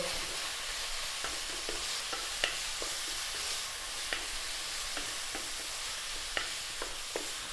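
Fresh chili and shrimp paste with onion stirred in a hot pan, a constant sizzle with light spoon scrapes and taps recurring every second or so, close up and without talking.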